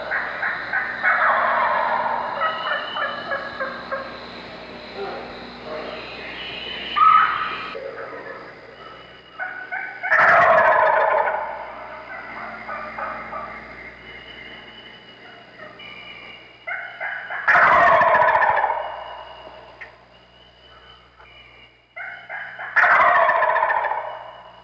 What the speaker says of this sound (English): the gobbler very often interrupts the hen while she's still yelping